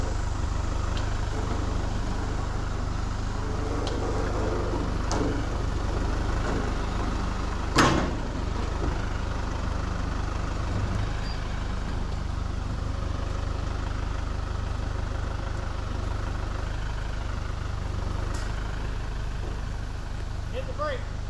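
A tractor engine idles steadily with a constant low rumble that holds unchanged, joined by one brief clank partway through and a few faint knocks.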